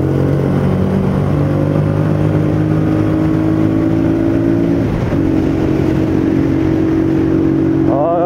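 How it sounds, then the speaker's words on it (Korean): A small Honda Ape 100 SOHC single-cylinder motorcycle engine idles and revs steadily up close, with a continuous throbbing hum that dips briefly before rising again. "SOHC 타입의 싱글 실린더 엔진입니다."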